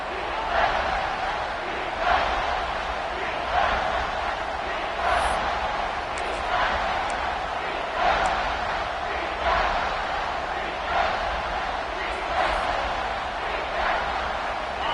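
A college football stadium crowd roars rhythmically, swelling in regular pulses of chanting noise to rattle the opposing offense, with a commentator speaking over the steady din.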